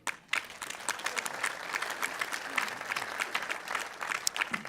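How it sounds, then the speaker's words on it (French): A French official gathering honouring Seine-et-Marne communities breaks into audience applause after a speech, a fairly faint, steady wash of clapping from a seated crowd. "On peut l'applaudir."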